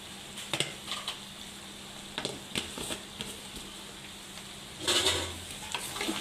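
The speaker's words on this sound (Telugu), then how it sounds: "ఇప్పుడు ఇది ఇక సిమ్లో పెట్టుకొని మెల్లగా ఇట్లా తిప్పుతూ ఉండాలి" Chicken frying on a low flame in a pan, with a soft steady sizzle and occasional scrapes and clinks from the stirring spoon, close and quiet, without any talk.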